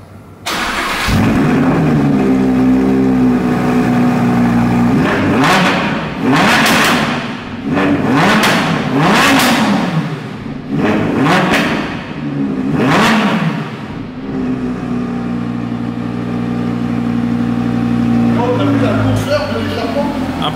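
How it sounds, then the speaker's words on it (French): A supercar engine cranks and catches, then idles while the throttle is blipped several times in sharp loud revs that fall back to a steady idle, up close with some talk. "on va vous faire un petit démarrage et quelques petits coups de gaz"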